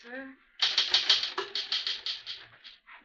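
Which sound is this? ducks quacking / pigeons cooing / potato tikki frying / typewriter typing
typewriter typing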